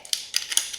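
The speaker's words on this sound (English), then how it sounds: "I'm going to give it a generous grind of black pepper" Black pepper ground from a pepper mill, a few quick gritty crunching bursts in a short rhythmic series, close and fairly quiet.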